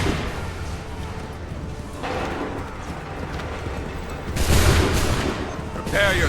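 A volley of soldiers' musket gunfire in Assassin's Creed 3 crackles in repeated ragged bursts over a steady battlefield din, with the loudest salvos near the middle and end and voices faintly mixed in.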